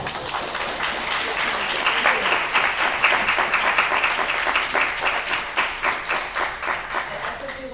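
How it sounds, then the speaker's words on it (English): An audience applauds the lieutenant governor primary candidates at a forum at YWCA O‘ahu, steady clapping that swells and then thins into individual claps. "we could give them a round of applause"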